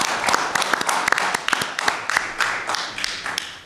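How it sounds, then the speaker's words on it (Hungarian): A council meeting audience in Szentendre breaks into applause, a steady run of sharp, close hand claps lasting several seconds. "azt hiszem, egy tapsot."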